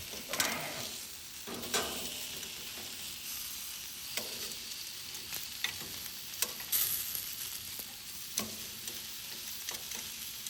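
Chicken thigh skewers with onions and mushrooms sizzling on a grill, a steady low crackling hiss with scattered pops and faint handling clicks, quiet and without talk.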